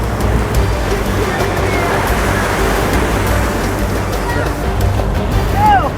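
Loud, continuous surf of a rough sea at Way Haru on an Indonesian coast where seaweed is gathered at low tide, a steady roar of breaking waves with wind noise and no clear talk.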